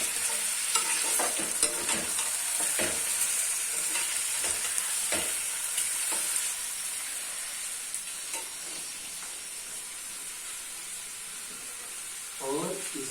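Chopped onion with garlic and ginger sizzles steadily in hot oil while being stirred, scraping and clattering in bursts over a dense continuous frying hiss, close and fairly loud.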